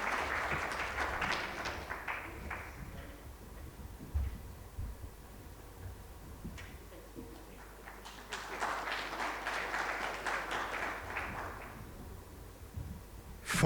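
An aviation stakeholders convention audience gives another round of applause in two swells, one at the start and a fuller one later, moderately distant with quieter room sound between.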